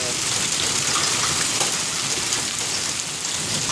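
Hail pelting down outside during a hailstorm, a dense, steady hiss of pellets striking surfaces, loud and continuous throughout with no pauses.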